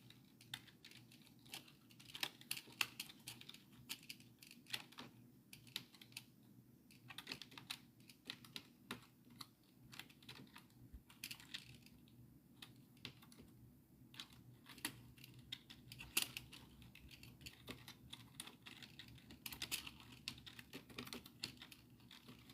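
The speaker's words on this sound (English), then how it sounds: "I'm still typing some stuff up." Steady typing on a computer keyboard, with soft, rapid key clicks pattering continuously at low volume for over twenty seconds and no voices.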